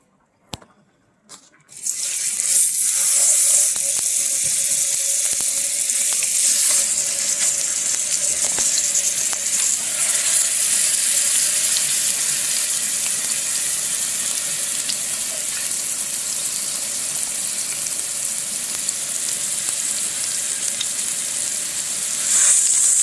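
Food sizzles steadily in hot olive oil in a pan for a Southern home-cooked supper, a loud, continuous hiss that starts after a few brief clicks and carries on alone.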